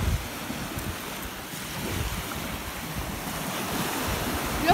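Big ocean waves roll and wash onto a rocky beach at Youghal, a steady broad roar of surf mixed with wind buffeting the microphone, with no voices.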